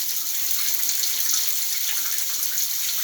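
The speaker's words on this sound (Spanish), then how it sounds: "Ahí está trabajando el agua caliente." Hot water running from a repaired household faucet on a newly installed exterior hot and cold PPN supply line, a steady soft hiss of flow held at an even level throughout.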